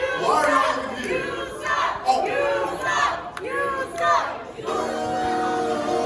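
A wrestling arena crowd roars and chants in waves, loud and close, with overlapping shouts and a steady wall of cheering noise throughout.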